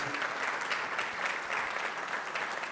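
An audience at a London startup founders' event gives the event team a steady round of applause, with dense, continuous clapping that holds at moderate volume throughout and no speech over it.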